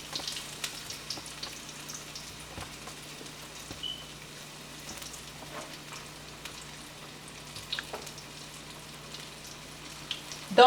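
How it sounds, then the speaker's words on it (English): Hot frying oil being tested before frying fish for a Caribbean stew fish dish, giving a steady, faint, crackling sizzle with scattered small pops and no talking. "let me see if I can just test the oil"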